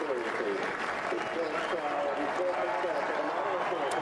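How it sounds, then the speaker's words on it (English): Racecourse crowd applauding and cheering as Frankel wins the 2012 International Stakes, dense continuous clapping and roaring from a large crowd, with commentary running over it. "Crowd here absolutely delirious."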